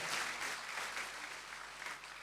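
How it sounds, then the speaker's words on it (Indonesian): Applause from a church audience, a steady wash of clapping at moderate distance that continues throughout without a break. "Beri tepuk tangan yang meriah buat Tuhan"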